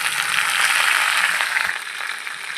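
Mustard seeds, cumin, curry leaves and dried red chillies frying in hot oil give a steady close hiss and crackle that softens slightly toward the end, with no talk over it.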